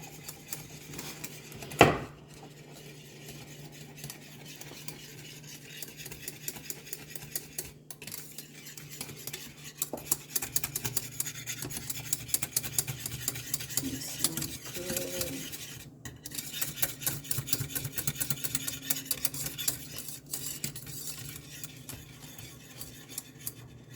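Spoon scraping and stirring pudding in a pot during holiday cooking, a faint continuous rhythmic scrape with a sharp clink near the start and quiet kitchen hum underneath.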